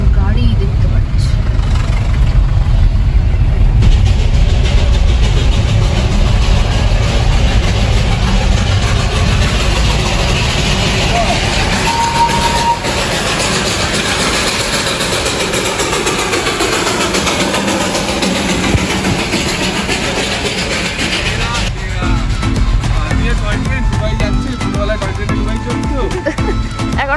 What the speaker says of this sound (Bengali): এখন গাড়ি নিয়ে যাচ্ছে টয় ট্রেনের পাশ দিয়ে